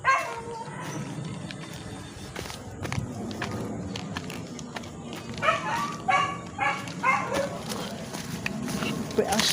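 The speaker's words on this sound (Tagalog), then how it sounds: "Aso." A dog barks and yips a few times in short bursts amid footsteps and people chatting nearby.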